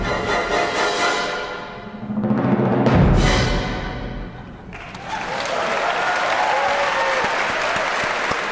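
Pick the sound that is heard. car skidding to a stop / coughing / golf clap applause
golf clap applause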